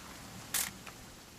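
An old camera takes a picture in the video game What Remains of Edith Finch: one sharp mechanical shutter click with a softer second click just after, close and isolated against a quiet background.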